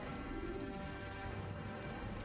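Horse hooves clip-clop faintly in the original Assassin's Creed video game, a quiet steady trotting rhythm under a dense hum of game background sound.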